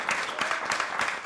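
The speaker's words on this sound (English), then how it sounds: "clap for yourself." A small audience claps steadily in a dense patter of hands, moderately close and without talking, at an online or live group call.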